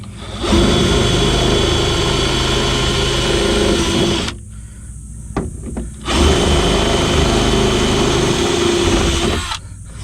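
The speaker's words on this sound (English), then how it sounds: "One of the drills I find handy for doing this is a step drill" A loud, high-pitched step drill whirs in two long bursts with a short pause between, grinding steadily through metal rivets on a 2000 Mercedes E320 rear window regulator nearby.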